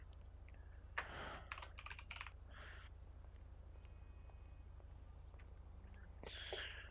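Someone types on a computer keyboard, writing a report in a FiveM roleplay game. Quiet bursts of rapid key clicks come in short runs separated by pauses, over a low constant hum.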